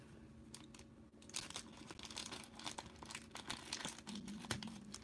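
Plastic wrapper crinkles and rustles as small card packs are slid out of a 1987 Topps Rac Pack, with irregular close crackles and soft handling noises throughout.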